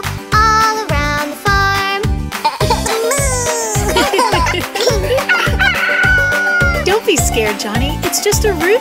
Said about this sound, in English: The old red rooster goes cock-a-doodle-doo